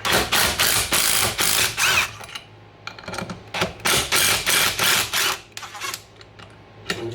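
Clutch cover bolts on a RZR Pro XP being loosened with a ratchet and socket, bursts of rapid close clicking in several runs separated by short pauses.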